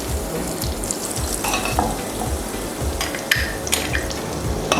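Butter heating in a small pan for butter mushroom masala, a steady close sizzle and frying crackle running throughout with a few brief clinks, no voices.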